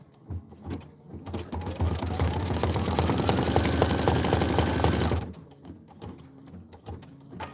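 A sewing machine stitches fabric in one fast, steady run of about four seconds, close and clear, with quiet handling sounds before and after.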